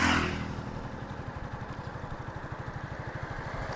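A motorcycle engine putters along close behind a runner, a steady rhythmic chugging throttled low after a louder opening burst, with no talk over it.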